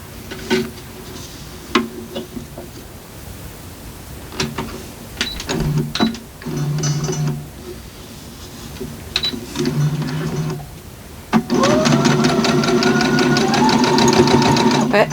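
A sewing machine stitches a quilt seam in short intermittent bursts, then runs in a longer, louder continuous stretch at the end. Quiet mechanical clicks and handling noises fill the gaps between the runs.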